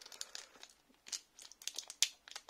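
Cardboard and plastic wrapping of a Pokémon Diamond and Pearl trio box crinkles and tears as its tab is pulled open, in several close, crisp bursts with brief pauses between them.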